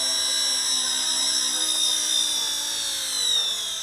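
A Heli-Max Black Hawk RC helicopter on scale wheels sets down outdoors, its rotor and motor holding a steady high-pitched whine throughout, close and continuous with slight swells in level and no voices.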